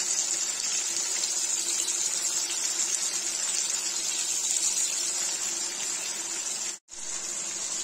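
Mushrooms fry in hot oil in a kadhai with a continuous, bright, hissing sizzle at close range, broken by one brief cut near the end.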